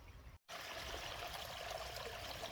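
Small waterfall spilling into a pool in the Appalachian woods, a steady, close, full rushing of water that continues without break apart from a brief dropout near the start.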